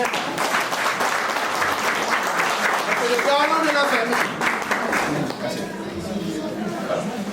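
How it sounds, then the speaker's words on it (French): Guests at a dowry ceremony applaud the head of the family, sustained dense clapping mixed with crowd chatter while someone speaks over the applause in French. "On l'applaudit, M. Trésor"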